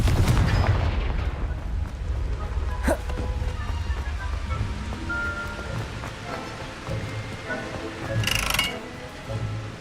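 A Confringo blasting spell in Hogwarts Legacy goes off with a loud booming burst at the start. Rumbling debris follows, then a sharp crack, and another brief bright burst comes near the end.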